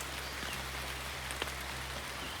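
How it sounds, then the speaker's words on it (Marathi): Heavy monsoon rain pours down outdoors, a steady dense hiss with no pauses and a few faint clicks of drops close by. No one speaks. "चायला पाऊस आला जोरात"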